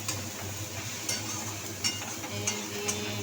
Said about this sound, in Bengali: আলু পেঁয়াজ টমেটো দিয়ে কাঁচা লঙ্কা দিয়ে হলুদ দিয়ে তরকারি রান্না হচ্ছে